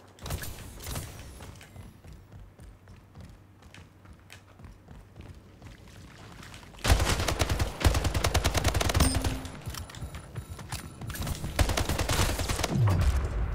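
Gunfire from the video game Splitgate: steady clatter of shots, quieter at first, then a loud dense burst of rapid automatic fire from about seven seconds on, near and continuous with short breaks.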